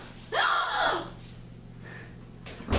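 A sharp, loud intake of breath from a person, a single dramatic gasp near the start, followed by quieter breathy sounds and a brief rustle at the end.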